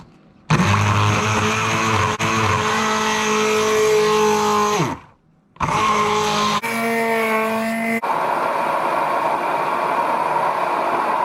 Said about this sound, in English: I'm going to be whisking mine up with my stick blender.